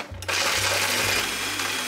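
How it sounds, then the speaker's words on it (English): A blender grinds toasted Ezekiel bread into breadcrumbs, starting abruptly with a loud, steady motor whir and a rough chopping texture that holds for the rest of the clip. "Next, I'm blending up my own breadcrumbs to go on my tofu cutlets."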